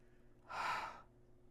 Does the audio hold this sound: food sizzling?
no